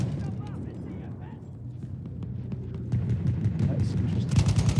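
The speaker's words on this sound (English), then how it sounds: "We have a long-distance tank battle here. The Apex tank firing from F onto the tanks on Bravo." Distant tank cannon fire in a Battlefield 1 match rolls in as scattered booms and rumbling gunfire. It sits under continuous talk and the din of a busy battlefield.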